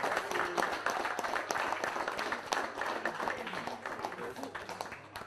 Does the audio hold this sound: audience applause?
yes